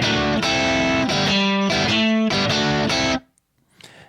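Distorted electric guitar through a Kemper Profiler amp model plays a riff, chunky strummed chords and punchy stops, loud and close, then cuts off with a short ringing tail.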